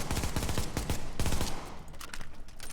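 A submachine gun in The Division fires in short feathered bursts, a quick rhythm of close, punchy shots over about a second and a half, then fading reverberation and scattered distant pops.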